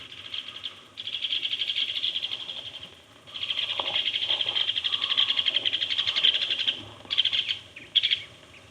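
Adult woodpeckers scold from up in a pine near a nest snag, giving rapid, insistent chattering calls in repeated bursts, fairly close and loud, with brief pauses between runs.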